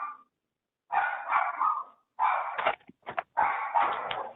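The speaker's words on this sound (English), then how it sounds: "Quiet the dog" A pet dog barking at home during a remote meeting, several loud close bursts of barks and yips in irregular clusters separated by short silences, with no speech over them.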